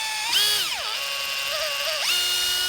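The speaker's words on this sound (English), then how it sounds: "We're going to pre-drill a hole just to about there" A power drill bores a pilot hole into the timber of a Byron cabin kit, giving a steady, close, high-pitched whine whose pitch sags as the bit bites into the wood and then climbs back up near the end.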